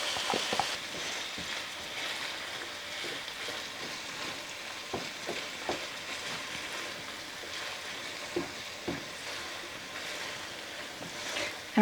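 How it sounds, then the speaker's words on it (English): Half an onion sizzles steadily in a hot pan, sautéing for a Southwestern casserole, with a continuous close frying hiss and occasional soft stirring clicks and taps. "I'm going to saute these onions till they get translucent"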